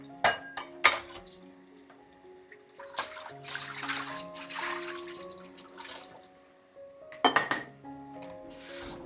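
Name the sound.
adding ground masala to chicken gravy in a pot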